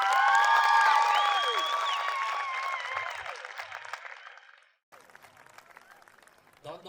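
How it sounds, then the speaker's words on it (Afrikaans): An audience at a school show claps and cheers for the learners, with whistles and shouts over loud applause that slowly fades away. "So kom ons gee vir ons leerders ook 'n lekker hande klap."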